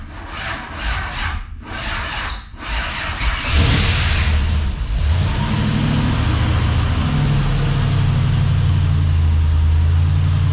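LS-swapped square-body truck cranking over with a few draggy starter pulses, then firing up and settling into a steady, loud, rumbling idle close by.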